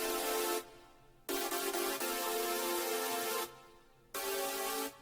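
Synth pad carrying the hook's chord progression, sustained bright chords that cut out in rhythmic gaps and return, steady and full with no voices over it.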